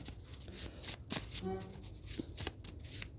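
A small clarifier deck of oracle cards is shuffled by hand at close range, giving a run of quick, papery riffles and soft slaps with uneven rhythm, plus a brief tonal squeak partway through.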